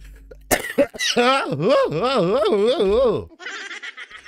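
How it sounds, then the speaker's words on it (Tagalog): A sharp cough bursts out, followed by a long, wavering, strained vocal sound, then a breathy trailing noise. "Hayop na ubo to."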